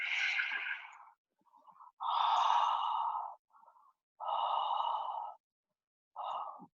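Deep, audible breaths are drawn in and pushed out close to the microphone during a yoga practice, with long exhales alternating with shorter inhales in a slow rhythm.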